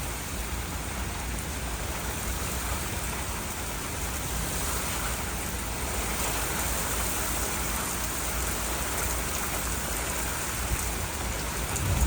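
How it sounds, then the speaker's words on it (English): Steady rain falls during a thunderstorm, a dense, even hiss of drops on surfaces that holds at a constant level throughout with no voices. "it is raining"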